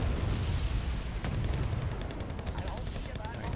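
Airstrike explosions in the real-time strategy game Wargame: Red Dragon, a dense rumbling barrage of booms and gunfire that stays loud and continuous while a player's voice talks over it.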